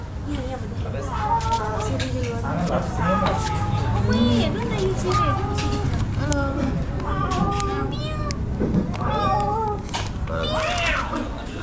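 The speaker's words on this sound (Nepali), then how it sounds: "भाइ माउ गरेको हो" A cat meows repeatedly in drawn-out, wavering cries while people talk and chatter nearby throughout.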